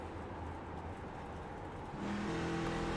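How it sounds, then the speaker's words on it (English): A race car engine in a racing sim game at Phoenix Raceway drones steadily at high revs, then the pitch steps up and holds as it revs harder, loud and continuous with no voices. "You really rev the car up there."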